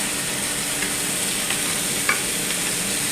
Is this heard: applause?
no